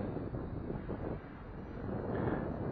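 Steady broadband wind rumbles and buffets the microphone outdoors while a JXD 509G Pioneer UFO FPV quadcopter flies, a continuous loud roar with gusts and no speech.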